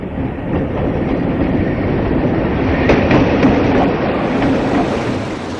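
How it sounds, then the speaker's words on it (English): A British Rail Peak diesel locomotive, Class 44, 45 or 46, hauls a Leeds-bound passenger train past at Newton Abbot. Its steady heavy rumble carries rhythmic wheel clicks over rail joints and holds loud and close throughout, with no voices. "A split box arrives there with a Leeds-bound train."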